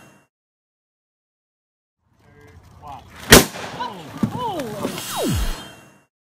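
A watermelon explodes under a massive electric current discharge, a single sharp, loud crack that follows a short quiet buzz, then debris and a brief falling whoosh as the sound dies away.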